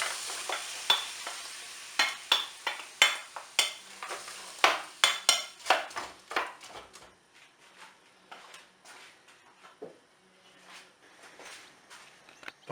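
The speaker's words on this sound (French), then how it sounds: "Quand la poêle est chaude, on va mettre les champignons." Mushrooms hit a hot frying pan, giving a run of sharp clicks and scrapes as they are stirred, over a light sizzle that settles into quieter, sparser taps.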